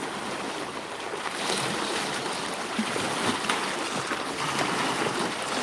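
Steady rush of choppy water slapping and churning, continuous broadband wash with light wind, fairly close, no voices.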